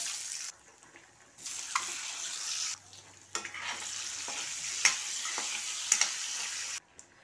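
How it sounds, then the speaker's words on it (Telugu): Eggs frying in oil with turmeric in a home kitchen pan, a steady broadband sizzle that rises and falls across the clip with a few short clinks, fairly close and with no talk. "కోడిగుడ్లు అయితే ఫ్రై చేస్తాను"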